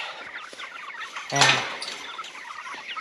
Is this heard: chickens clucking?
yes